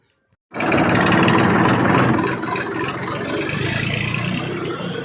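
A tractor engine at a salt pan in Saurashtra kicks in abruptly and then runs as a steady, loud, close rumbling drone that eases slightly partway through.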